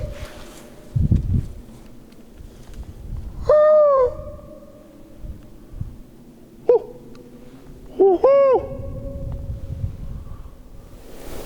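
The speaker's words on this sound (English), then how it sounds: "At least I woke the owl up" An owl calls from woods at night in a few separate hooting bursts, moderately loud, with soft rustling and faint background hiss between calls.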